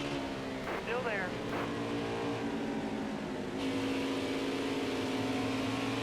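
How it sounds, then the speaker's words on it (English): Race truck engine in the Nascar Heat 5 game at Phoenix, held at high revs with a slight over-rev, a sustained whining drone with brief pitch sweeps from passing vehicles, a commentator's voice faintly underneath. "Over revving just a tiny bit"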